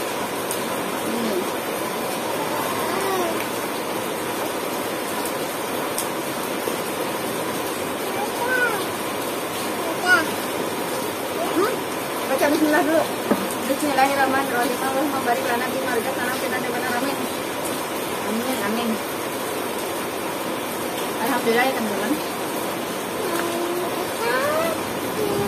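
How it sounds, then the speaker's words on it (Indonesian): Heavy rain pours down outside during a home meal, a constant wash of hiss in the background while people talk and dishes clink over it. "Ini lagi hujan ya. Hujan besar banget."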